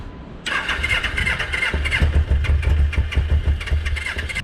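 A cafe racer motorcycle engine cranks and catches, then runs in a rough, pulsing idle, close and fairly loud with no talk.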